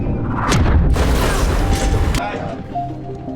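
A torpedo explodes in a submarine film as the ship escapes the blast, a loud, deep, rumbling boom that swells and roars for over a second before cutting off into a lower, echoing undertone.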